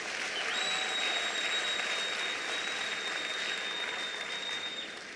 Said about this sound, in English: Let's give our sponsors and our partners a big hand of applause.